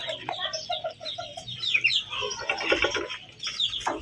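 Several chickens cluck and chirp close by in irregular bursts, a busy barnyard chatter with sharper squawks toward the end.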